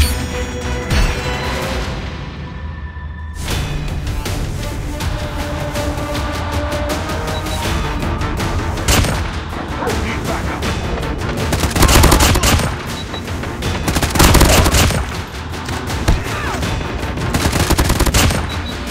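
Call of Duty Mobile Team Deathmatch gunfire, loud near automatic bursts rattling almost continuously with heavier shot clusters, game sound alone without voices.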